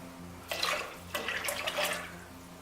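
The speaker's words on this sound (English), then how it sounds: "See, then it just pours right out." Homemade bone broth glugs and splashes as it pours out of a container into a pot, two bursts of liquid running for about two seconds, close and fairly loud.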